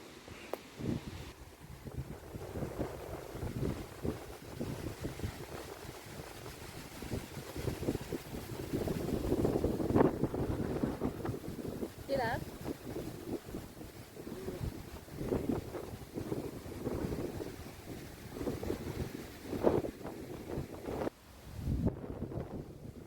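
Gusty wind buffets the microphone in rough, rumbling surges that rise and fall throughout on a nature trail to Fluxfallet waterfall in Sweden, with no voices.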